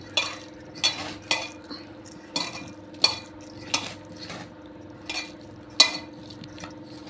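Leftover cooked rice being kneaded by hand in a bowl for sun-dried vathal, with soft squelching presses and occasional sharp clinks recurring about every half second to a second, close and fairly quiet, no talking.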